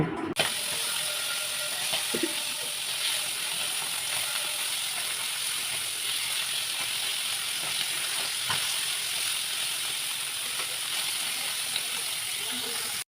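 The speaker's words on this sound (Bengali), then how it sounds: "দুই পাশ উল্টিয়ে পাল্টিয়ে একটু লাল লাল করে ভেজে নেব।" Tengra fish frying in oil in a wok gives a steady, close, dense sizzle that runs unbroken throughout, with a few faint clicks and no voices.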